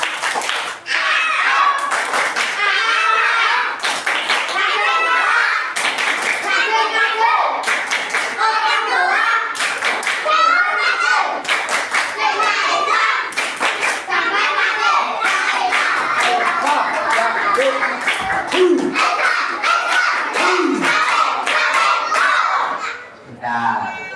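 Children in a prayer room doing the rhythmic 'tepuk semangat' clapping chant, bursts of sharp group claps in patterned rhythm alternating with shouted children's voices, loud and close, continuing for over twenty seconds.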